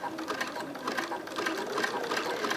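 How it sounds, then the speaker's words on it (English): A sewing machine runs steadily in a continuous close whir, zigzag stitching honey bun fabric strips into a hat with the stitch length set around 1.8. "and we just start sewing"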